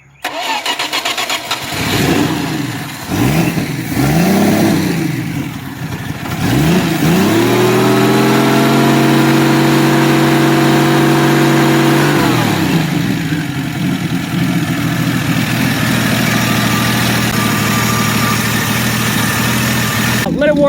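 A car engine running on a newly fitted carburetor, loud and close, cranks and catches, then revs up and down in sustained swells before settling into a steady idle.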